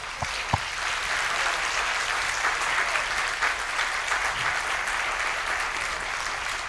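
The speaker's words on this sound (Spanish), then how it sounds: "ustedes se merecen un aplauso, que yo voy a comenzar." A church congregation applauding during an evangelism service, a steady wall of many hands clapping at even loudness, with a couple of sharp knocks at the start.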